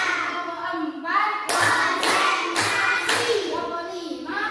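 A group performs a rhythmic clap pattern, the fourth in a coaching session's sequence of clap routines: a few bursts of sharp hand claps between stretches of voices, close and fairly loud.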